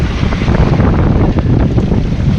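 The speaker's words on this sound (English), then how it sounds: "I'm motorsailing from Port Lincoln to Whyalla." A sailboat motorsailing under engine between Port Lincoln and Whyalla in South Australia, heard as loud, continuous wind buffeting and rushing water with a low engine rumble beneath.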